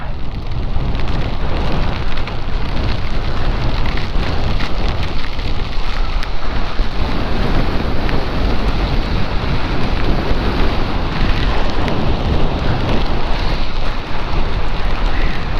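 Heavy rain pours steadily alongside strong gusting hurricane wind on the UK south coast, a loud dense roar with no pauses throughout.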